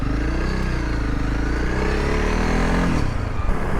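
A motorbike on a road in Northern Ireland, its engine droning steadily at close range with a rising then settling pitch as it passes, loud and continuous with no talk.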